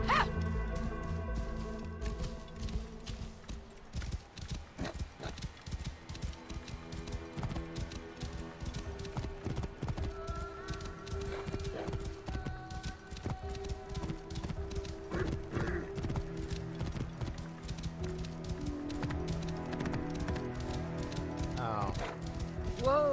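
Horse galloping across desert terrain in Assassin's Creed Origins, with rapid rhythmic hoofbeats, an occasional whinny and ambient game music underneath.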